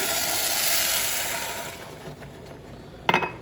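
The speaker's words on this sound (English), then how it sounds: "And now I will pour in my stock. We'll give it a nice sizzle." Stock is poured into a pan of browning rice for a healthy Cuban meal, giving a broad steady hiss of sizzling that fades over a few seconds, then a short clink near the end.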